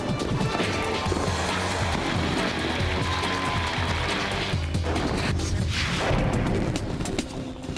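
A large fireworks display reaches its grand finale in a dense, continuous barrage of booms, crackles and bursts. The sound is loud and sustained, with no gaps between blasts.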